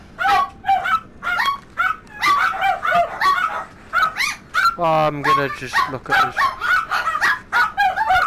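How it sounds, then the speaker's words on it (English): Dogs bark in a loud flurry of repeated yips and barks indoors, a burst of rapid barking standing out in the middle while a person talks nearby. "That's the dogs going off on one."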